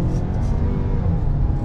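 A 2022 Ford Maverick XLT with the front-wheel-drive 2.0 EcoBoost engine pulls hard under acceleration, a steady, loud low rumble heard from inside the cabin with no talk over it.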